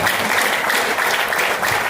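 Audience applause at a motivational speech event: dense, steady clapping from a crowd, fairly loud and close, continuing evenly throughout without any talk.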